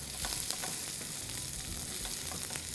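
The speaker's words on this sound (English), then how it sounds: "it's time to add in the diced onions to the pan" Diced onions sizzle in a pan with ginger and garlic for a mushroom and water chestnut stir fry, a steady close frying hiss with light crackles and stirring scrapes, and no voices.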